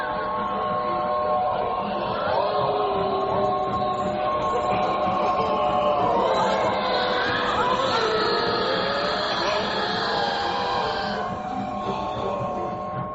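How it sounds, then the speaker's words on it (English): A very old steam train passes a bridge in a radio drama sound effect, trailing black smoke with an eerie organ playing; a continuous dense roar with layered tonal, organ-like drones swells through the middle and fades slightly at the end. "Listen to that train, Miss Foley."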